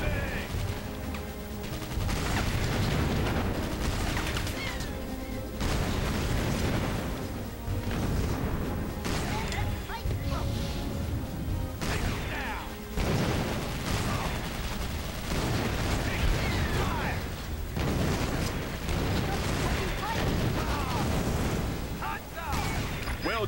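Units in Battalion Wars fire their weapons in a dense, continuous barrage of gunfire and explosive blasts, with voices speaking over the battle.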